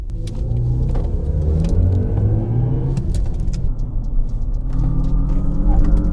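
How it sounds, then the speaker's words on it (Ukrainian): A 2024 Hummer EV, a 4.5-tonne electric truck, accelerates hard with a steady loud rumbling whir, rising motor tones and tyre and road noise, sustained close by throughout. "Він отак спускає жопу, коли ти нажимаєш на газ сильно."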